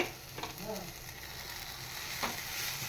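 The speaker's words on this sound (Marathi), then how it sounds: "ही मुळ्याची पानं छान अशी यात बेसनमध्ये आणि फोडणीमध्ये छान अशी परतवून घ्यायची आहेत मुळ्याची पानं." Radish leaves are stir-fried in roasted besan and a spiced tempering, producing a low, steady sizzle with occasional soft scraping stirs in the pan, fairly quiet throughout.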